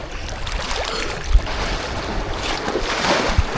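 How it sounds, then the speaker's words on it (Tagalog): Rough sea surf churns and splashes continuously with a couple of heavy thuds of waves breaking nearby, wind rushing over the water. "Grabe ang alon guys"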